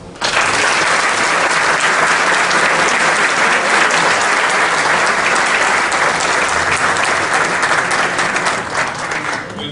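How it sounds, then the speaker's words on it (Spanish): A seminar audience at an army war college strategy event claps for the speakers in loud, sustained, dense applause that holds steady for several seconds before tapering slightly at the end. "A proporcionar un fuerte aplauso para todos los expositores por haber compartido todos sus conocimientos y experiencia"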